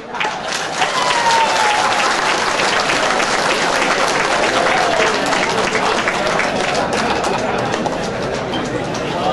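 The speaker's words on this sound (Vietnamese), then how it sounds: "Nếu quý vị nghĩ rằng Chủng tướng Việt hát hay đó thì xin quý vị một tràng pháo tay thật lớn." A large audience at a Vietnamese-American community event gives a big round of applause, loud, dense clapping that fills the room for several seconds.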